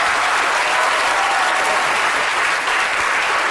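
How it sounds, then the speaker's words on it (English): Loud, dense audience applause fills the whole stretch, a steady wash of many hands clapping close by without pause or voices on top. "I think a big round of applause there for Mark"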